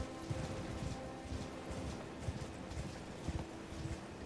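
Horse hooves clip-clop in a quick, repeated rhythm in the video game Elden Ring, fairly soft and steady against a faint game background with no talking.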